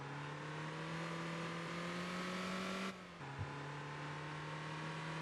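A front-wheel-drive car in the MotorTown driving game hums with a steady, droning engine note that dips briefly as if shifting gears, then settles back to a constant mid-pitched drone.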